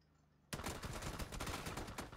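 Rapid gunfire in PUBG bursts in after half a second of near silence, a dense close volley of overlapping shots continuing steadily to the end, like a firing squad in a pistol-only match.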